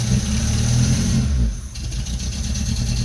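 An old car engine revs steadily as the gas pedal is held down, a loud continuous mid-pitched drone that dips briefly midway and then settles into a rougher, pulsing run.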